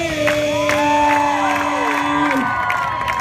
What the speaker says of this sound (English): When we say make some noise, you all make some noise.